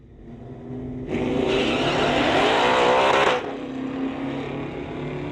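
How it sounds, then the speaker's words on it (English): A 2022 Ford Mustang and an older Ford Fairlane launch in a street-legal drag race, engines roaring loudly with spinning tires for about two seconds, then easing off into a steady, more distant drone. "bunch of tire smoke right off, just spinning those tires off. So much power there in that 2022 Mustang."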